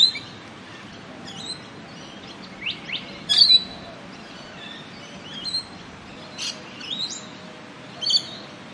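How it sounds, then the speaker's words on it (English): A young swamp hen gives short, sharp chirps at a lake, scattered calls in small bursts over a quiet background. "I was just videotaping the swamp hen. I could just hear it chirping away."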